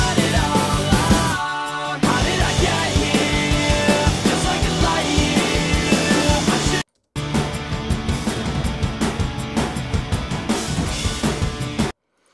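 The full multitrack mix of a pop-punk song plays with drums, guitars and vocals together. It is loud and dense, cuts out briefly midway, then resumes.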